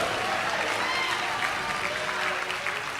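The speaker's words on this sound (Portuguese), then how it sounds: "Quem crê, bata palmas e dá glória." A church congregation claps together during a Portuguese-language worship service, a dense steady wash of applause lasting throughout with a few voices faintly mixed in.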